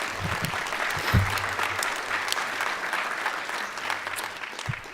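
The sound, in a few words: applause at a school board meeting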